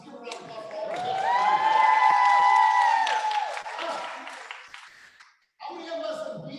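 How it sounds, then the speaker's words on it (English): An audience applauds the guests at the first annual company meeting of a real estate firm, with steady, loud clapping that swells for about five seconds, breaks off briefly and then resumes, with ringing tones over it. "Let's give a round of applause for all the guests."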